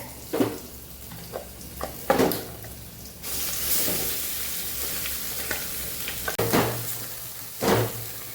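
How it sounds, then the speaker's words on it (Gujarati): Coriander chutney with garlic and hing sautéing in a pan, giving a steady sizzle with a few louder bursts of stirring and scraping, close and without talk. "જે પાણી બચેલું હોય એ બળી ન જાય ને ત્યાં સુધી આપણે આ ચટણીને સાતળવાની છે"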